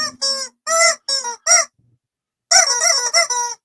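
Chickens cluck and squawk loudly and close by in short bursts, a quick run of calls, a brief pause, then another rapid cluster.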